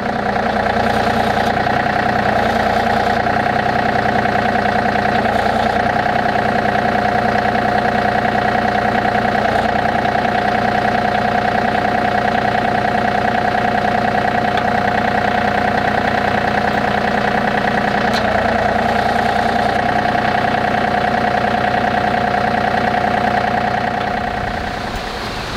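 A John Deere 3025e compact tractor runs steadily with a logging winch attached, its engine holding a loud, constant drone throughout with no talking.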